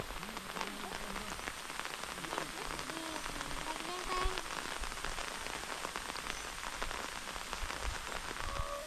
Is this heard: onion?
no